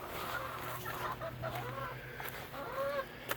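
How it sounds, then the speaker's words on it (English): A backyard flock of eight friendly chickens clucking softly at close range, a few rising and falling calls scattered over low outdoor background noise, with no talk. "go say hi to the chickens"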